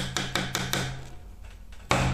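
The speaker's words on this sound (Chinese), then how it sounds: "对，用锤子锤他" A hammer strikes rock in a dig for gemstones. Four sharp, ringing blows land in a steady rhythm, a pause follows, then one more strike comes close to the microphone.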